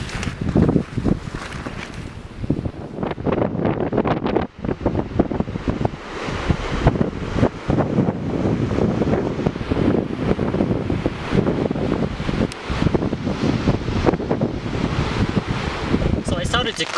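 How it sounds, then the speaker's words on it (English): Steady wind buffeting the microphone on a bike journey between Naryn and Osh in Central Asia, a constant low rumbling roar with gusty swells throughout, loud and close. "It's a bit windy."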